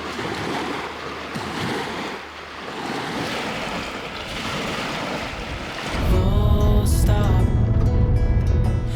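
Steady rushing water of the Salto Grande waterfall in Torres del Paine, Patagonia, roars under wind noise, growing louder and fuller partway through as if moving closer to the cascade.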